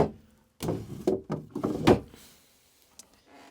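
Drawers under the sink in the cabin of a Viking 255 boat slide open and shut, a run of several close wooden knocks and thunks over about a second and a half, then near silence.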